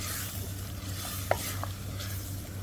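Potatoes fry in a pan with a faint, steady sizzle and a low background hum, plus a single light tap of a utensil partway through.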